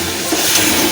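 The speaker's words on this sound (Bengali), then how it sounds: "জল দিয়ে দিলাম।" Water is poured into a pan of frying potatoes for aloo posto, producing a brief, loud, steady hiss and rush.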